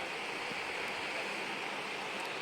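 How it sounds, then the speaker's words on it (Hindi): A river flows through dense forest, giving a steady, broad rush of moving water that stays even and unbroken throughout, with no voices over it. "ये नदी कितनी बढ़िया बह रही है"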